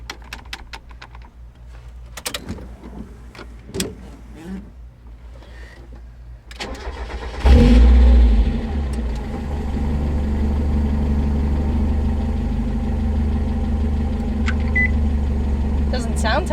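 A Lexus IS300 car engine cranks and starts with a loud catch, then settles into a steady, rumbling idle close by, after several seconds of quiet clicks and handling noises.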